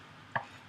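A knife cuts once through a scooped-out avocado on a board, giving a single short, close slicing thud in an otherwise quiet moment.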